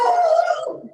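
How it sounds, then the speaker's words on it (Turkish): A dog gives a single short, high, tonal vocal cry, close and fairly loud, trailing off within about a second. "O, o, o, o benim köpeğim kusura bakmayın."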